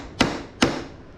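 Two crisp, evenly spaced hammer taps on a nail set, countersinking a nail into wood in a shop class, each strike sharp and close with a short ringing decay.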